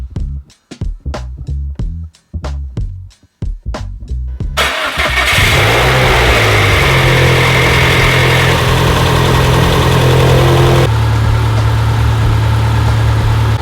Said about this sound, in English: So I've let the car idle for quite a while, trying to get this thing to leak again